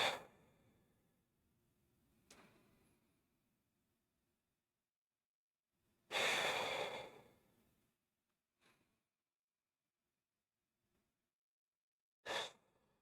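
A person breathes audibly while holding a standing stretch at a strength gym: a few soft breaths, then one long, full inhale, with another short breath near the end and quiet between them.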